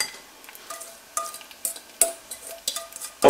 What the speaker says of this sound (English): Give that a mix around like so.